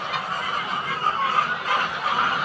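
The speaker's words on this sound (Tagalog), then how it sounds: "ito yung manok" A small flock of young layer chickens clucks and chatters softly in a pen, a steady close murmur of overlapping calls.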